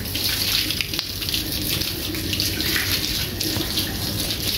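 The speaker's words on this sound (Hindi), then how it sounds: "मुँह पे ना डालो पानी।" Water pours and splashes steadily from a tap or mug while a child is bathed, a close continuous gush with a few small knocks and no talk.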